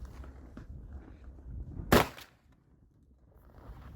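A single sharp shotgun blast firing a shot shell cracks out mid-clip against quiet outdoor background, followed by a brief fading echo.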